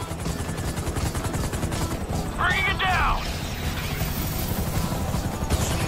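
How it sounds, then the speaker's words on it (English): Helicopters in the GTA V video game, a continuous rotor chop and engine drone filling the scene alongside gunfire and crashes, while someone speaks briefly over it. "MIB choppers, pick me up."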